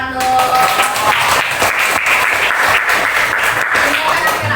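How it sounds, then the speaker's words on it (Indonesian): A classroom of students applauding and clapping together, a dense, steady wash of claps close by with voices mixed in throughout. "Bujok, tepuk tangan dong"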